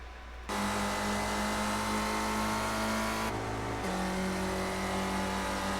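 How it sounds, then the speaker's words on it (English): Ford race cars in an iSpec Racer sim-racing game replay at Glen-Classic produce a steady, loud engine drone at high revs, with a brief dip in pitch midway as a gear shift or lift occurs before the tone resumes. "let's relive the last lap with Bertoni"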